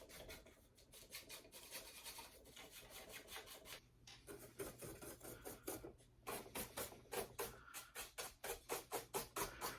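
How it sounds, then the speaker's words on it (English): A cheap chip brush flicks dust off a miniature spaceship model in quick, quiet, rhythmic bristle strokes that speed into an even, rapid scrubbing toward the end. "get a little cheap chip brush and start to kind of hit it up, get rid of all the dust"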